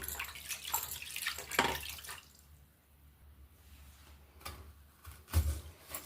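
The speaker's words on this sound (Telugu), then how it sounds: "వెజిటబుల్స్ అన్నీ నీట్గా కడుక్కుందామండి" Vegetables are washed in water, with soft splashing and dripping sounds close by that come in short bursts separated by quieter gaps, faint overall and without talking.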